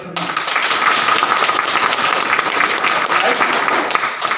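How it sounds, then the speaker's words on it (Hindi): A large crowd bursts into loud, sustained applause, dense clapping filling the whole stretch at close range. "एक बार जोरदार तालियां"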